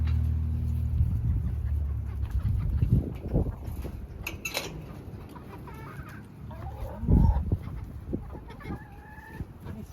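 Hens cluck and murmur nearby with scattered squawks, over a steady outdoor background; a louder bird call stands out partway through.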